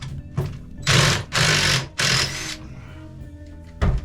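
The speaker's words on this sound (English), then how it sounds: "I don't think that would have come out without an impact driver." An impact driver backs screws out, giving loud rattling hammering bursts of about half a second, several in quick succession with short pauses between them, close to the microphone.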